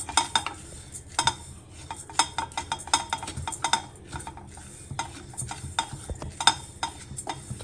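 Oats dry roasted in a kadai, stirred with a metal spatula in quick, repeated scraping clinks against the pan, close and fairly rhythmic, with no talking.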